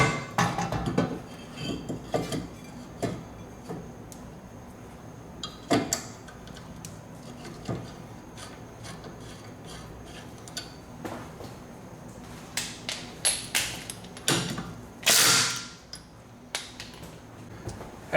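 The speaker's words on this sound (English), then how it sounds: "Reinstall the brake rotor." A brake rotor is fitted back onto a BMW E36 wheel hub, heard as irregular close metallic clanks, taps and scrapes, growing busier and louder toward the end.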